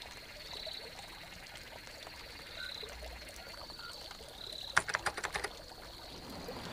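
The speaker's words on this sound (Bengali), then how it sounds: "দুধারে নিবিড় কৃষ্ণতার ভেতরে ব্যাঙের ডাক, ঝিঝিয়ে আওয়াজ, আর ছোট বড় নালায় বর্ষার জলের কলধ্বনি।" Frogs croaking and crickets trilling at night in a cartoon rain scene, a steady faint insect whine with a short burst of rapid clicking croaks.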